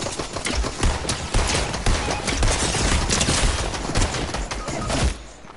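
Rapid, dense video-game gunfire from Fortnite, a sustained barrage of overlapping shots at steady loudness that cuts off abruptly near the end.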